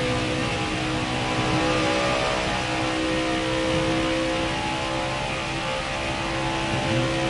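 A NASCAR Heat 5 race car engine holds full throttle in a steady, unbroken drone with a slight rise and fall in pitch, loud and continuous with no voices over it.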